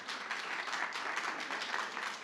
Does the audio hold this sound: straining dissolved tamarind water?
no